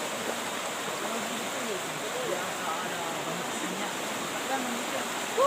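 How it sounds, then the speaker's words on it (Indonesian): Steady river water rushes in a forest at night during a crossing, a constant, fairly close hiss of flowing water with no clear breaks. "Ini kita sedang melewati sungai guys"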